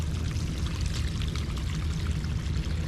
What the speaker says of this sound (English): That's a constant flow of groundwater.